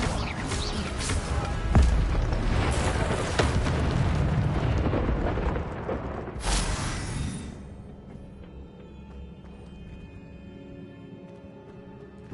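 Incendio fire spell in Hogwarts Legacy erupts in loud whooshing, booming bursts of flame with crackling impacts, tapering off into quieter ambience after several seconds.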